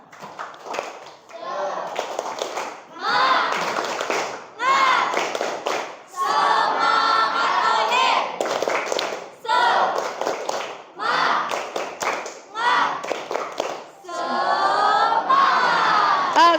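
A class of children claps in a rhythmic chant, bursts of patterned clapping mixed with shouting voices, repeated in several loud rounds.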